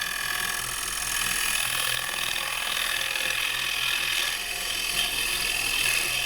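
A gouge makes push cuts on black walnut spinning on a wood lathe, a continuous scraping, rasping hiss over the lathe's low steady hum, close and moderately loud.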